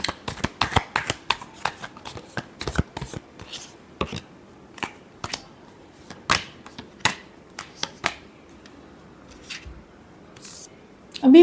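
Tarot cards are shuffled by hand in a quiet room, a run of crisp, irregular riffles and slaps that bunch together early, then thin out into scattered taps and soft shuffles, with no voice over them.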